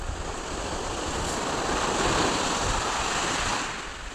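Strong sea waves surge and break continuously, a loud, broadband wash with heavy wind noise on the microphone that swells in the middle and eases slightly at the end, with no voices.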